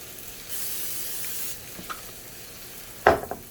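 A sizzle of salmon frying, with a short hiss of non-stick cooking spray early on and a sharp clatter near the end.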